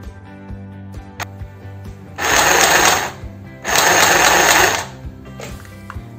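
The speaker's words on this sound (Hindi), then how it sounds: "तो मैं पहले आपको फुट पेडल चला के दिखाऊंगी।" A mini sewing machine runs on its foot pedal, giving two bursts of loud, fast whirring stitching about a second and a half each. Light clicks and soft mechanical ticks fall before, between and after the bursts.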